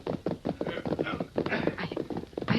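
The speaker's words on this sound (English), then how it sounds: "Those horses sound tired." Several horses' hooves clop in an uneven, rapid rhythm at close range, while voices talk over the hoofbeats.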